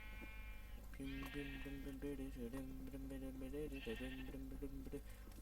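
Sheep in the video game Minecraft bleat in repeated wavering calls, several overlapping bursts, loud and close over a steady background hum.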